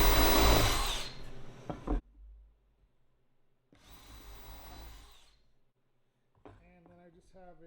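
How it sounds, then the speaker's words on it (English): A power drill fitted with a countersink bit bores a through hole in wood trim for a truck camper interior, running loud in two bursts with a pause between, followed by brief quiet talk. "I'm doing a through hole with the countersink bit."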